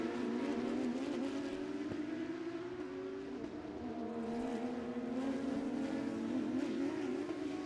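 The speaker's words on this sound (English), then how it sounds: "The Lambo closing up under braking going into Mission Foods turn 7." Lamborghini race car braking into turn 7 at Sebring, its engine tone rising steadily over a continuous loud racing-car roar, mid-distance with no talking.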